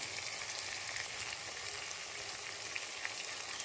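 Chili, ginger and garlic paste sautés in hot oil in a Bengali kitchen, a steady dense crackling sizzle that runs evenly throughout with faint spatters and no talk.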